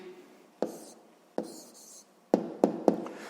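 A pen writes an answer into a sixth-grade maths exercise on paper, making a few short, close scratchy strokes and taps separated by brief pauses, quiet and alone.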